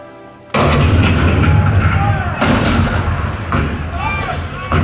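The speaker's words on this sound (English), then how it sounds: "The cannon spoke for war, bitter, violent, and devastating." Cannon fire at Fort Sumter in a Walt Disney World Hall of Presidents show: a sudden loud boom followed by repeated heavy blasts and rumbling, echoing through a dense dramatic soundtrack.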